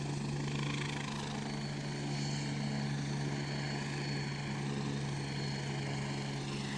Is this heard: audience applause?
no